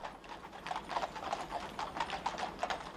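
Horses' hooves clip-clopping steadily in a slow funeral procession through London streets, a faint, even rhythm of hoofbeats heard alone against a hushed background.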